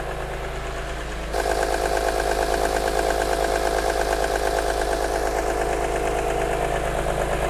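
A BMW E46 M3 on its first start after Vanos and pulley work in a shop, settling into a steady, smooth idle with an even rhythmic pulse, close and loud, with no talk.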